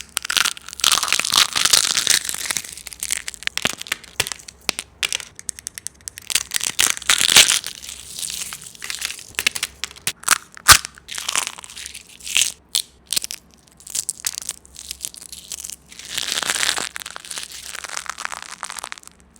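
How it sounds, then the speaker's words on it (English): Dried egg being crushed by hand, a run of close, dry crunching and crinkling bursts that come in uneven clusters with short pauses between them, no voices. "we're going to crush some of these eggs."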